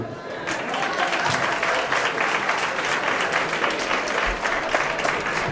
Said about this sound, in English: Let's give Rachel a nice round of applause